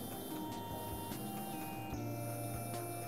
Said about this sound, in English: the vial is placed into the agitator for incubation